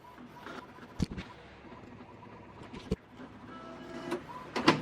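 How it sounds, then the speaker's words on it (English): An inkjet printer running a nozzle check whirs steadily, with sharp clicks and clunks of the print mechanism at intervals and a louder mechanical burst near the end. "Alright guys, so the nozzle check is going down."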